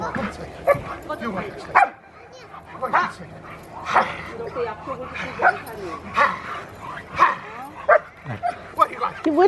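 A dog barks and yips repeatedly in short, irregular bursts, close and fairly loud, with a few whimpers mixed in, while people talk and call to it during play.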